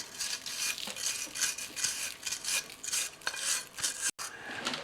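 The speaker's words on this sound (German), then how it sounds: "Da geht er mit der Messingbürste drüber." A brass wire brush scrubs the rear brake parts of a Peugeot 206 CC, a close, rapid scratchy rasping in repeated back-and-forth strokes, heard alone.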